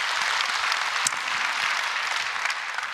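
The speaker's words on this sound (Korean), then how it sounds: "우리 하나님께 영광의 박수 올려드립니다." A Korean church congregation claps together during a Sunday anniversary service, a dense sustained round of applause with a few sharper individual claps standing out.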